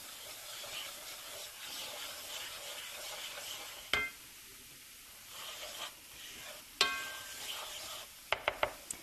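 Flour being stirred into a quarter cup of hot olive oil for a roux, a soft continuous scraping sizzle with a few sharp clicks of the spoon against the pot toward the end.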